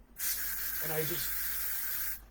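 A steady hissing spray runs for about two seconds close by, with a brief low voice murmuring underneath partway through.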